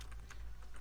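Someone codes in PHP on a computer keyboard, a quick run of close, light key clicks in an uneven rhythm.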